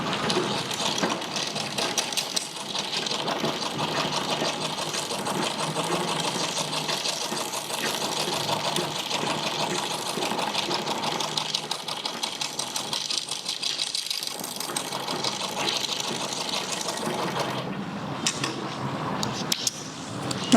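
A sewing machine runs steadily for about twenty seconds, stitching a lock stitch with a continuous mechanical whir and a rapid needle rhythm that barely varies in level, with no talk over it.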